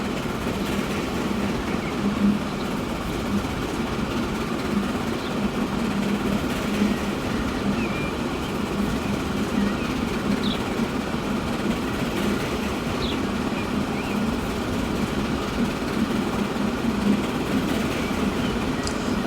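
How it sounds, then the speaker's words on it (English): Trains roll past in the Transport Fever 2 simulation on the Verney Junction to Aylesbury line, a steady, dense rumble of wheels and carriages with faint clickety-clack running evenly and fairly loud throughout, with no talking. "But it's always nice to have other trains passing."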